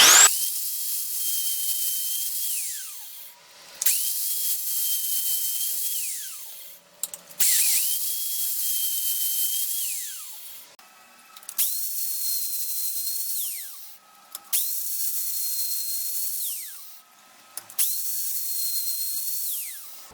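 A power drill drills holes in timber, whining repeatedly in bursts of several seconds each, about six times, with short pauses and clicks between holes.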